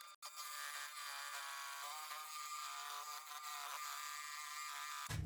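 A scroll saw cuts the corners off a wooden cornhole board, a steady close buzzing drone that holds evenly for several seconds with faint fluctuations, ending in a low thump.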